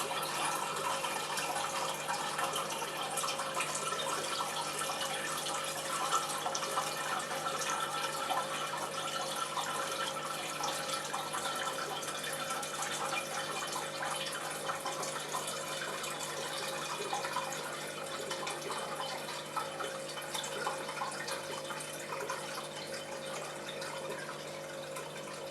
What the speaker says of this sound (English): So nice and slowly. This is splashing a little bit, so I'm going a bit too fast.